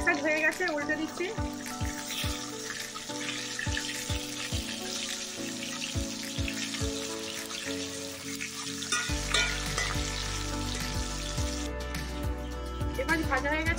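Fish pieces fry in oil in a kadai after being flipped, a dense sizzle with sharp crackling pops. The sizzle grows louder and steadier partway through and stays close and continuous.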